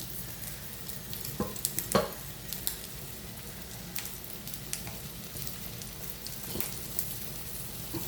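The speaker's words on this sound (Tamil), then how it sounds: "கொஞ்சம் நேரம் ஒரு அஞ்சு நிமிஷம் நல்லா அவிய விடுவோம்" Egg curry bubbles quietly in a pan, a soft steady simmer with scattered small pops and crackles and a few faint clinks, low in level and without speech.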